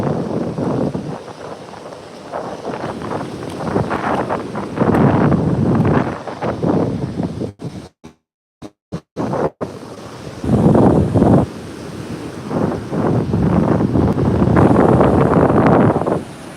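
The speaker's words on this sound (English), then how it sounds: "There's some driftwood splashing around in the waves here" Ocean waves wash onto a beach where driftwood splashes around in the surf, with continuous rushing water and gusting wind noise that briefly drops out before the surge returns.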